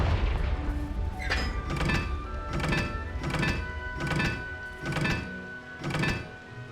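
In Hogwarts Legacy, the Confringo fire spell is cast over and over. Six heavy booming blasts land at an even pace, roughly one every second, over a constant rumbling background.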